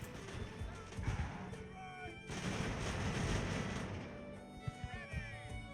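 Cannon fire booms in the naval battle game Ultimate Admiral: Age of Sail, dense rolling volleys of heavy shots with crashing impacts, loud and continuous, with a voice talking faintly beneath.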